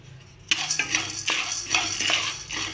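Roasted gram dal clatters into a pan and gets stirred with a metal spoon, starting with a sudden rattle followed by repeated scraping, clinking strokes, close and loud with no speech.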